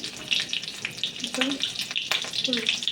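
Kalonji seeds and green chillies frying in hot oil in a kadai, a continuous close crackling sizzle with scattered pops and a faint knock or two.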